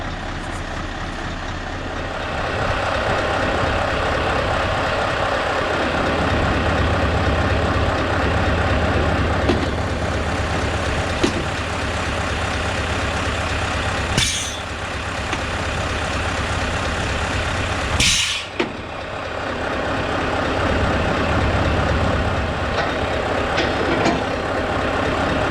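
A Scania S650 V8 truck with a hydraulic tank, upgraded, rumbles steadily at close range while manoeuvring to drop a trailer, its low engine drone continuous, with two brief sharp hisses or clanks breaking through partway.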